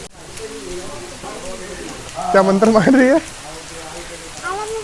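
Steady rain falls outdoors as a soft, constant patter, with young girls chatting close by over it and one voice rising louder for a moment.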